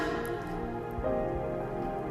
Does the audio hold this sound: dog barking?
no